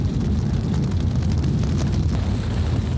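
Explosion effect from the 1986 post-apocalyptic film Terminus, a loud, sustained low rumbling roar that fills the whole three seconds without letting up.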